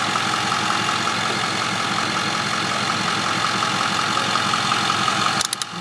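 A 2009 Ford F350 Super Crew diesel pickup idles close up with a steady, even low clatter that runs without a break until it cuts off near the end.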